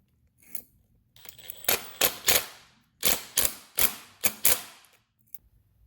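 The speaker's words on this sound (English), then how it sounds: "and then tighten the bolt back down." Bolt on the fuel filter of a 1992–94 Honda Civic being tightened with a hand ratchet, giving bursts of sharp metallic clicking in quick groups with short pauses between, close and fairly loud, no voices.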